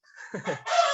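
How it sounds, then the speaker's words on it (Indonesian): A chicken lets out a short, loud, close crow that rises into a strained final note, preceded by a brief clucking murmur, all heard alone. "ini sepertinya mengganggu kayak ini suara ayam nih."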